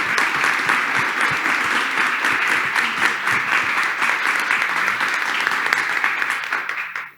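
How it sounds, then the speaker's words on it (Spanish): Loud, sustained applause from a seated audience at an education summer school event, dense clapping of many hands close by, fading out at the very end. "les pido un aplauso para ellos, que son los que hicieron posible"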